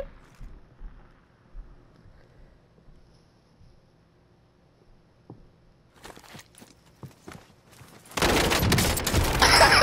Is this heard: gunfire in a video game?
yes